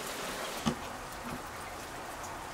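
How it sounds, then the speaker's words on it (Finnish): Rain falling outdoors makes a soft, even hiss throughout, with one small thump early on and a faint patter beneath. "Nyt sataa."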